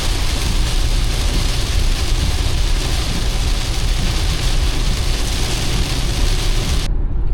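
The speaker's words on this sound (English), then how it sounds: "obviously it is a heavy downpour" A heavy, dense downpour roars as a steady, loud wash of rain, continuous and unbroken throughout before ending abruptly.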